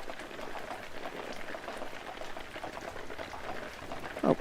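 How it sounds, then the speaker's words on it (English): Rain falls steadily outside at night, a soft even patter of drops with a small louder splash near the end, quiet and continuous. "The rain must have begun right as you were on your way back."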